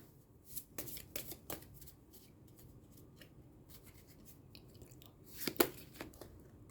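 Oracle cards being shuffled by hand, faint papery riffles and rubs in short bursts with a sharper flurry near the end, quiet and close, no voices.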